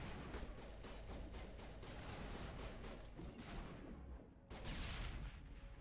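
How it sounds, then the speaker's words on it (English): In the video game Mass Effect, a thrown grenade detonates amid a loud, dense run of gunfire and blasts, with a short dip into near quiet before a heavy explosion bursts in. "Press G to throw a grenade, and then press it again for it to detonate."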